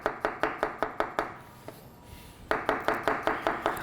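A knife slices mushrooms on a cutting board for mushroom soup, with quick rhythmic close chops, a brief pause midway, then another steady run of cuts.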